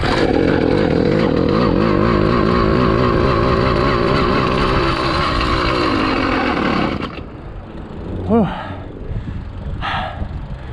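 A small motorized bicycle engine, choke open, runs loud and buzzing for about seven seconds, its pitch wavering with throttle, then cuts out abruptly, leaving quieter background noise with a brief faint tone.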